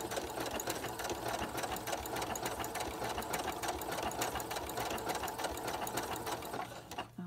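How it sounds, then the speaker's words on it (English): A sewing machine runs continuously, stitching the final inch of a quilting practice piece at its widest stitch setting. Fast, even mechanical whirring and clatter hold steady, then stop abruptly near the end. "now do that last little bit with the widest"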